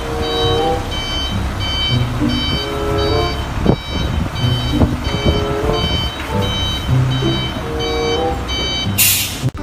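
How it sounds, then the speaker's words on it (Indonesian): A toy container truck emits a steady series of electronic reversing beeps, evenly spaced tones repeating throughout, with soft handling clatter underneath and a brief hiss near the end. "Wow, ini truk kontainer ekspedisi,"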